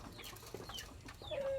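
Chickens scuffling in a backyard flock, with brief clucks and a sharp squawk rising near the end, plus a burst of wing flapping, all close by and loud.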